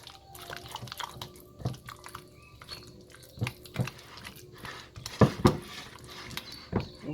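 Ricotta cheese being stirred in a bowl, 2.5 cups of it worked until smooth and creamy: scattered clinks and knocks of a utensil against the dish, with wet, soft squelches, moderately close and irregular, louder taps near the end.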